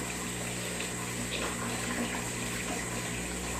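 Aquarium water is siphoned out during a water change, a steady close rushing flow with a pump-like hum underneath, continuous and even from start to finish.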